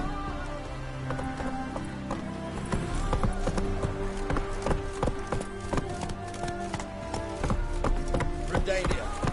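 Roach the horse galloping in a video game, hooves pounding in a quick, uneven clip-clop rhythm over a faint music bed, close and fairly loud.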